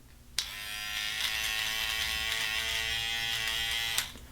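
An Andis trimmer buzzes steadily and close for about four seconds while removing ear hair, switching on and off sharply at each end.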